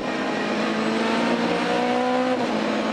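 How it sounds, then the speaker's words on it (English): Onboard a Renault Clio race car at Zandvoort during a Supercar Challenge round, the engine drones loud and continuous with a steady high-revving whine throughout. "on board with Neiman. Right behind the little Lotus."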